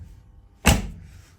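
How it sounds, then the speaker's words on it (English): An old car door is shut once with a solid, sharp thud partway through, followed by a short fading rumble against a quiet outdoor background. "we do have to shut the doors properly."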